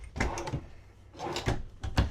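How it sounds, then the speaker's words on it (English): A pull-out drawer in a 2025 Arcadia 3260RL fifth-wheel trailer slides open and shut with quiet scraping rolls and soft knocks, repeated a few times, close by. "So right here, you're going to have 7 pull-out drawers"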